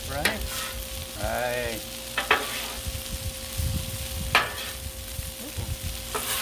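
Chicken fried rice sizzles steadily on a Blackstone griddle while spatulas scrape and toss it, with sharp metallic clacks and scrapes at intervals over the continuous frying hiss.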